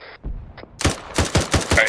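Arma 3 gunfire during a military op, a quick run of loud rifle shots in close succession after a couple of softer earlier pops, sharp and near.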